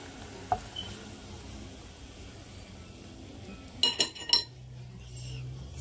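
Chicken and plantain fry in oil with a low steady sizzle, broken by a few sharp metallic clinks of a utensil against the pan, with no talking.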